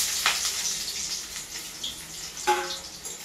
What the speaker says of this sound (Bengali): তেল গরম হয়ে গেছে, পেঁয়াজ দেবো।